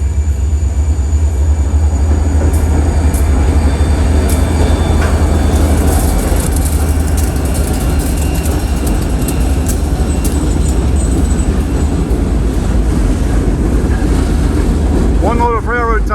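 A Norfolk Southern freight train hauling heavy storage cars and railroad ties rolls past on wet rails in the rain, a loud continuous low rumble with wheel and wind noise close by, a brief squeal near the end.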